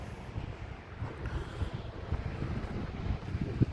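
Low, rumbling wind buffets the microphone in uneven gusts, with no voices.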